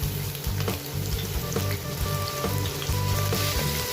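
Garlic fries in hot cooking oil in a Teflon pan, giving a dense, steady sizzle close up, with light stirring scrapes coming through at regular intervals.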